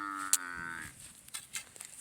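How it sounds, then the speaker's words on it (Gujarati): A cow gives one short, close moo at the start, then it falls quiet apart from a few small knocks and rustles. "આપણી ગાય છે"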